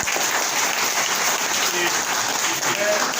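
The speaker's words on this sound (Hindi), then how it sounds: "तो पहले तो इनका जोरदार तालियों के साथ स्वागत करेंगे।" A classroom of students gives a loud welcoming applause for a former student. The clapping is dense and continuous, close by and steady, and fills the whole few seconds with no break.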